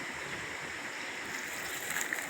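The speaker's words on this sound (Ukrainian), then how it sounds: "Там теж откудись тече, впадає ручеек" Steady trickling and burbling of a small stream, a constant soft wash of flowing water close by.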